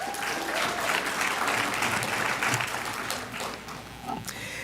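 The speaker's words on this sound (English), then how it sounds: "Hold your applause until everyone has been named" Applause from the crowd at an AGM opening ceremony as party leaders are named, a broad, steady roar of clapping that holds strong and tapers slightly near the end.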